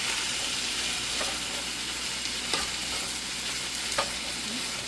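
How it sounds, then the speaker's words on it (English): Chickpeas fry in a hot pan with a dense, even sizzle and crackle, broken by a couple of faint stirring taps, and no one speaks. "So I'm going to put some chickpeas in here."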